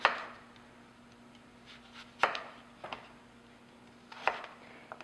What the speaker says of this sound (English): I just take a sharp knife and just cut down on either side of the core.